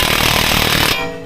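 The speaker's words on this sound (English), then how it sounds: "use my impact gun all the way to the end." An impact gun hammers loudly and rapidly on a big wheel bearing bolt on a Mercedes-Benz W212 E250 4matic, a close burst of about a second that stops abruptly.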